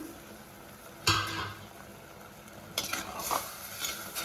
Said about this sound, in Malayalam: ഇടയ്ക്കൊന്ന് തുറന്ന് നോക്കിയിട്ട് ഇളക്കി കൊടുക്കാം കേട്ടോ